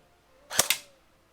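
Single shot from an airsoft Cybergun AK47 AEG rifle on semi-auto, outdoors: one sharp, close snap with a quick mechanical double click, then quiet.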